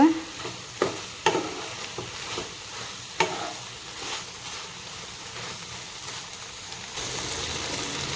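Okra and potatoes with masala stirred and fried in a pan for Odia bhendi besara, giving a steady low sizzle broken by several sharp spoon scrapes and clinks, with the frying growing a little louder near the end.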